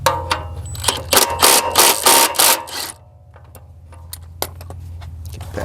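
An Allen key works a large nut on the right side of a Honda ST1100 motorcycle wheel during a driveway tire change: sharp metallic clanks and jangles up close, then a quieter run of fine ratcheting ticks.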